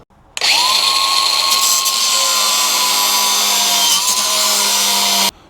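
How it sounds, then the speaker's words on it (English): Angle grinder cutting through the chain of a 1977 Baron moped (Intramotor-Gloria variant), a loud, steady high-pitched whine that bites in after a brief start and runs continuously for about five seconds before stopping abruptly. "I might just grind the chain off"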